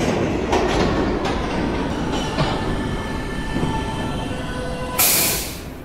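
A Roblox PTA Subway train on the Fifth Avenue lines rumbles steadily along the track with faint wheel squeal and clatter, ending in a sudden loud burst of air hiss.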